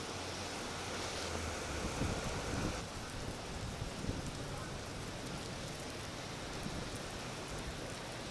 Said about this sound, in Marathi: मुंबईमध्ये धो-धो कोसळणारा पाऊस आपण पाहतोय